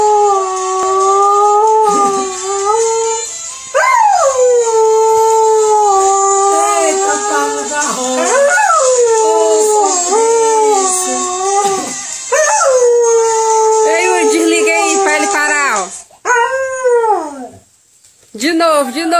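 A dog howls along to music in long, wavering, mournful notes, rising and falling repeatedly, loud and close, with a few breaks and yips near the end.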